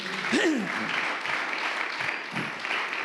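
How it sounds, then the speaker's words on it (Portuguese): Steady applause from a church congregation fills the space, with a voice rising briefly over the clapping near the start. "Dê a Ele uma salva de palmas, aleluia."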